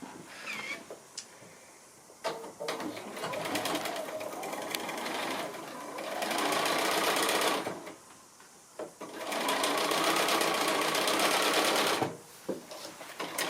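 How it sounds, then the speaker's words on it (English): A sewing machine stitches quilt block pieces together, its fast mechanical whir running in two sustained bursts with quieter handling clicks and rustling between and around them. "And so we can sew that one on there"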